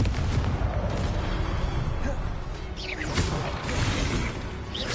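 Confringo spell explosions in the Hogwarts Legacy video game, loud booming blasts and crashes over dense game noise, with several bursts close together across the stretch.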